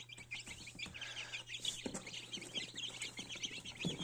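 Newly hatched Marans chicks, fresh from an incubator, sit in a box under a lamp, giving a busy, overlapping chorus of high, thin peeps and chirps close by.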